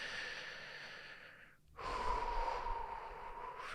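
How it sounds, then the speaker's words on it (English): A single deep breath, close and soft: a long airy inhale that fades into a brief pause, then a fuller, breathy exhale, with no talking. "Take another nice big deep breath."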